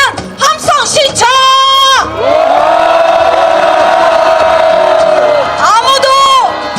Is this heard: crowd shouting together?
yes